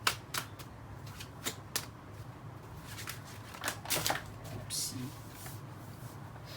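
Jane Austen tarot cards being shuffled by hand, a run of soft, crisp riffles and slaps spread through the clip under a voice speaking briefly.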